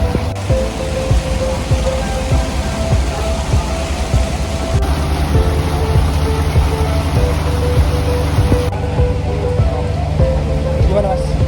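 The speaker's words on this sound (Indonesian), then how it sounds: "tiba-tiba hujan deras" Heavy rain pouring down on a vehicle on a ferry crossing at sea near Bakauheni port, a dense steady loud patter with a constant low engine hum underneath.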